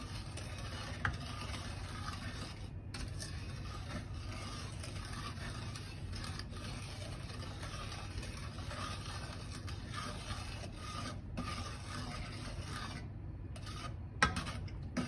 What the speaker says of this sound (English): if you scrape the spoon off the side of the pot and you can hear the grains of sugar like getting crunched